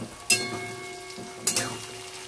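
Overcooked onions fry in a pan with a soft, steady sizzle. Two sharp clattering stirs rise briefly above the low hiss, and no one speaks.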